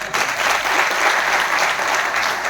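Loud, continuous clapping fills the hall as the audience at a motivational talk in Gwalior applauds, rising sharply at the start and holding strong and even throughout.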